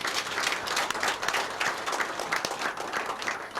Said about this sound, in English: Make una clap for him